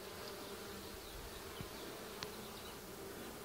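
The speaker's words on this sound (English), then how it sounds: "Bees are bringing in some pollen." Honeybees buzz in a dense, steady drone at an open beehive during an inspection, close and continuous, with a couple of faint knocks.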